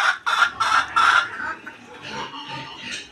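Chickens cluck in a burst of loud, repeated calls at a backyard farm where pigs are also kept, then settle into softer, continuous chatter as the flock waits to be fed.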